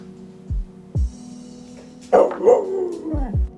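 Zeus the dog gives several short, sharp barks spaced through the moment, then a longer whining, talkative howl-like vocalization, fairly close and loud.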